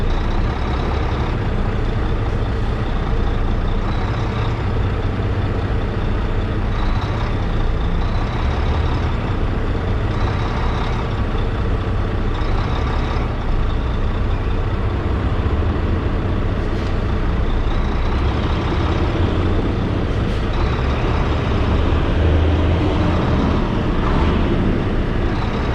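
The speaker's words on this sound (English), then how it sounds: "what I'm about to do is I'm gonna back up my truck to this trailer" Truck backing up to a trailer at night, a loud continuous diesel engine rumble close by with intermittent hissing bursts from the air brakes, no voices.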